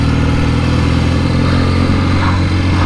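A 1967 Norton Dominator 650 SS engine runs loud and close while being ridden, a steady throbbing mid-pitched drone with no other sounds.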